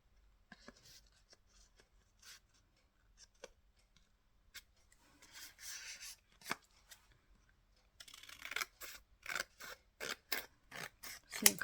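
Scissors snipping through paper for a junk journal, scattered soft cuts at first, then a fast run of crisp, close snips toward the end, with no talk.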